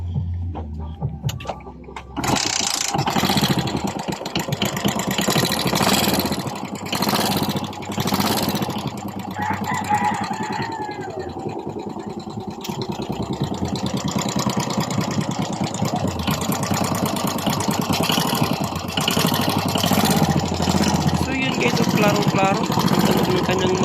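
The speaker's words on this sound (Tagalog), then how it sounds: "para marinig nyo ang kanyang makina ay kailangan paandarin muna natin" A Suzuki Smash 115 motorcycle engine starts and settles into a steady idle with a fast mechanical ticking, close and continuous, with a few words spoken early on.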